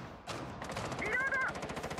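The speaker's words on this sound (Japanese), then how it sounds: "AK の銃声がしたんですよ。" AK rifle gunfire rings out in the video game Rainbow Six Siege as a rapid burst of evenly spaced shots, fairly loud, running through most of the short moment.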